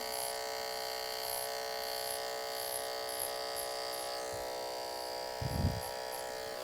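Electric hair clipper buzzing steadily as it cuts and blends hair in a barbershop, a close, continuous hum with brief thumps of handling near the end.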